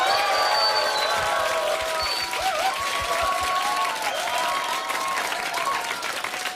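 A studio audience at a special public broadcast of a Korean political talk show claps, producing dense, sustained applause from the crowd throughout. Faint voices and cheers mix in beneath the clapping.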